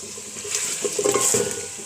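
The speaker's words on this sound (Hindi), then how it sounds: "ये हमारा चिकन जो फ्राई हो रहा है" Chicken frying in a pan, a steady close sizzle with bubbling and light stirring scrapes, moderately loud throughout.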